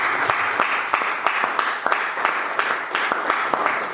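A church congregation applauds during a French-language sermon, with steady, dense clapping and sharper accents at regular intervals, like rhythmic clapping along with worship.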